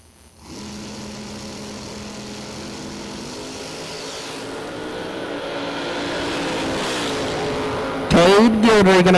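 Drag race cars, a 1968 Camaro among them, roar down the strip at a Texas drag event, a sustained loud engine drone building steadily before a sharper, louder burst near the end, with a commentator talking over it.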